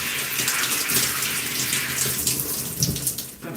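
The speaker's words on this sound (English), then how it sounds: "And I'm going to rinse my hands." A tap runs steadily, with water gushing and splashing as hands are rinsed under it, close and continuous with no talking.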